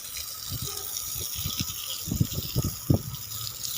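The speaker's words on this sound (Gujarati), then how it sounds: "જો અત્યારે ધાબુ ધોઉં છું," Water runs across a rooftop terrace as it is washed, a steady soft hiss with scattered splashes and low knocks.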